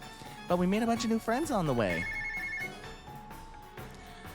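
A phone rings inside the RPG Maker MZ game Worlds Collide: a short, bright electronic tone sounds just after someone speaks, with soft game music continuing underneath.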